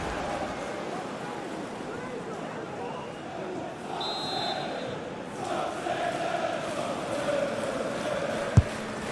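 Stadium crowd noise from a FIFA 22 Premier League match between Tottenham and West Ham, a steady broad roar with rising chants toward the end and a brief sharp knock near the close, heard under commentary.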